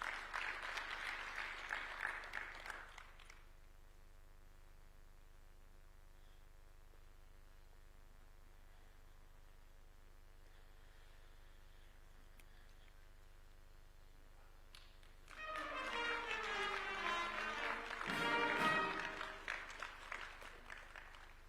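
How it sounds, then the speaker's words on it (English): Applause from the audience at a presidential swearing-in ceremony for a Supreme Court judge swells at the start and fades by three seconds, leaving a low steady hum, then a second burst of clapping returns loudly near the end. "A round of applause for him, please."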